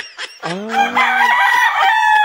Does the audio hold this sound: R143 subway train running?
no